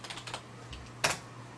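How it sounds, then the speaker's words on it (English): A computer keyboard being typed on at a Windows 7 command prompt, with a few quick light keystrokes followed by a firmer single press, like Enter, close and quiet over a low hum. "now we're going to type in exit and hit enter"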